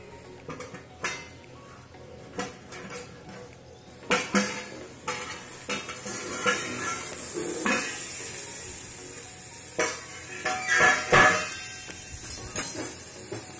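A cooking-pot lid clanks as it is lifted off to check vegetables and purple yam steaming over chillies in banana leaves, a traditional Maharashtrian dish. Scattered metallic knocks and clatters stand out over a soft, steady background hiss.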